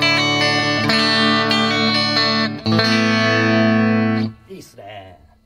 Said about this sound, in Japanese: じゃあまず JC の音。